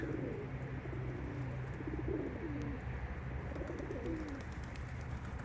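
Pigeons coo repeatedly in soft, low throaty phrases, steady and close, with a faint hum of background noise underneath.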